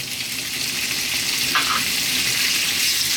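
Bacon sizzles loudly in olive oil in a pan on high heat, a dense, continuous frying hiss that stays close and steady throughout.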